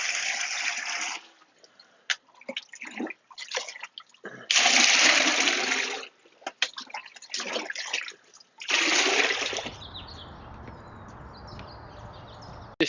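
Murky aquaponics filter water pours into a bucket in several loud rushing bursts separated by quieter gaps, splashing close by and ending in a steady trickle.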